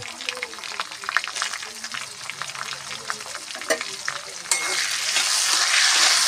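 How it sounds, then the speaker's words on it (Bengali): Tomato pieces with a pinch of salt fry in a pan while being stirred, scraping strokes over sizzle that suddenly swells into a louder, denser hiss near the end. "এবার নেড়ে দিই। টমেটোটা নরম হয়ে যাক।"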